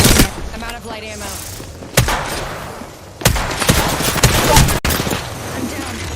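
Bursts of video game gunfire from a squad shooter firing at an enemy shield, sharp loud volleys with heavy thuds separated by brief lulls, voices talking underneath.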